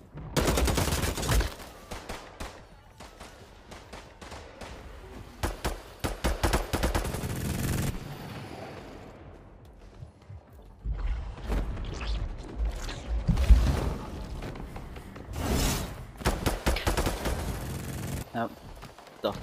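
Rapid, sustained bursts of minigun fire in a video game, loud and roaring in several long runs separated by short lulls, with voices talking over parts of it.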